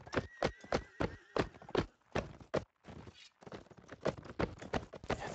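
Several horses trot in a multiplayer video game match, their hooves giving a rapid, uneven clip-clop of sharp, fairly close strikes that pauses briefly midway, with a faint whinny early on.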